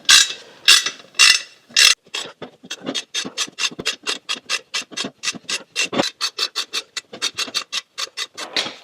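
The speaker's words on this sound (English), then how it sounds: "I'm going to run a tap through these holes just to make sure they're clean." A hand thread tap works through bolt holes on a Scout clutch assembly, giving a close run of short, rhythmic rasping scrapes that repeat steadily with tiny gaps between turns.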